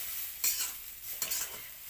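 Tea being stirred in a pot on a clay stove, a soft scraping swirl with two brief louder strokes over a steady hiss, close and alone.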